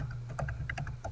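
Rapid clacking of computer keyboard keys as someone types a purchase order status into construction-builder software, a short burst of uneven keystrokes over a steady low hum.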